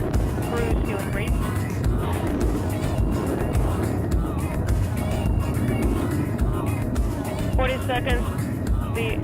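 Soyuz rocket with four boosters and a single engine roaring during launch, a dense continuous rumble that stays loud and steady throughout, with radio voices talking over it.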